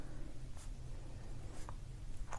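Pen scratching across paper in short strokes, a few quick faint scrapes over a quiet low background hum with no voices.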